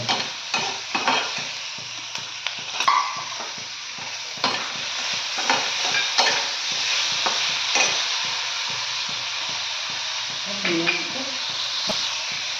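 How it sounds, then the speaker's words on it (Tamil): Onions sautéing in a pan for a pomfret fish curry: a steady close sizzle with repeated rhythmic scraping stirs throughout, and a voice talks briefly over the cooking. "நல்லா வெங்காயத்தை நல்லா வதக்கிட்டுருக்கோம்."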